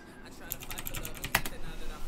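Rapid clicking of a computer keyboard being typed on, a quick burst of keystrokes with one louder clack, close and fairly quiet over faint room noise.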